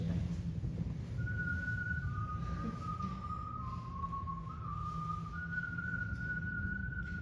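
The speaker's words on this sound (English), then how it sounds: "he began to whistle" Someone whistles a slow, simple tune inside the Old Dutch Church, clear sustained notes shifting in pitch over a low background rumble.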